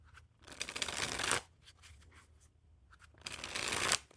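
Squeezers Grapefruit playing cards by Organic being shuffled in two bursts of loud, close riffling, with a short quieter pause of card handling between them.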